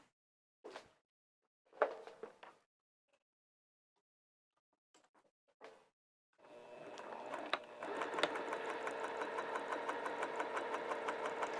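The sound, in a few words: sewing machine stitching a 1/4 inch seam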